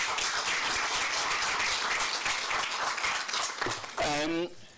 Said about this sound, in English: join me in just giving MEC another round of applause